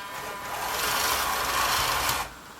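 The electric motors of a TongLi K2 tracked RC scissor lift drive it in one steady, close, buzzing whir for about two seconds, then stop abruptly, leaving faint background noise.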